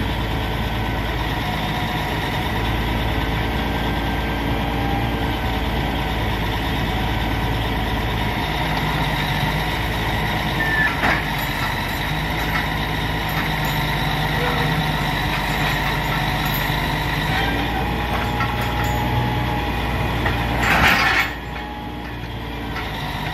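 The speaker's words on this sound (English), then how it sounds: "How we load our self-loader trailers." A heavy truck engine idles and drones steadily while a self-loader trailer is loaded with a hop-on system, a continuous close rumble with occasional clanks and a brief rattle near the end.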